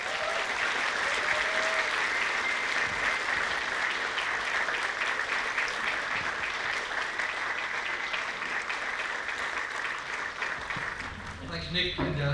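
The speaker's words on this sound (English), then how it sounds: "let's welcome, with our clapping hands," A concert audience at The Balfour in 2023 claps steadily and loudly for a long stretch to welcome a band onstage. The applause fades near the end as the band begins.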